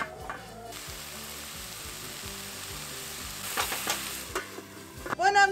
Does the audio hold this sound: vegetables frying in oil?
yes